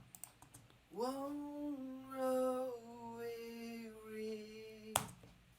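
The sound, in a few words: chorus effect on vocal track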